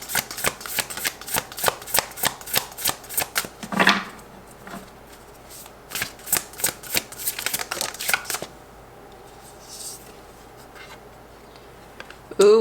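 Tarot cards shuffled and drawn by hand, a rapid run of crisp riffling slaps close up, then a few softer card flips and placements with quiet pauses.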